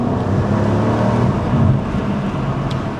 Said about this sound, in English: Let's get some revs up.